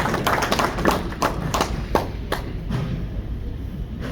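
In a room where a talk on the history of a football club is under way, a few people give sparse, uneven claps that sound like scattered taps and thuds rather than a full round of applause.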